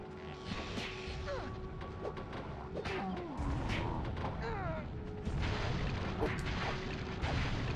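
In The Legend of Spyro: A New Beginning on PS2, a character blows himself up amid steady game clatter: booming, crashing impacts and rumbling bursts over a continuous noisy bed, with whooshing effects, lasting several seconds.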